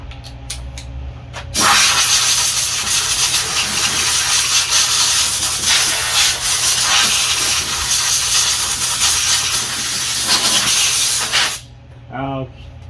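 A loud, steady blast of compressed air hisses close by for about ten seconds, blowing out a Craftsman push mower housing near the carburetor, then it cuts off and a brief mechanical whir follows.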